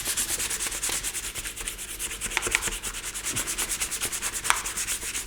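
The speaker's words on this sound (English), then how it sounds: "I'll go back to my 220 sandpaper." Primer being hand sanded with 220 grit sandpaper, brisk back-and-forth rubbing strokes in a steady rapid rhythm, close and loud, with no talking.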